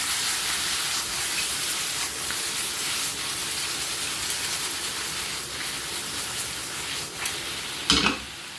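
Mushrooms and cherry tomato sauté in a pan with a steady, bright sizzle that holds throughout, broken by occasional stirring scrapes and a sharper hiss near the end.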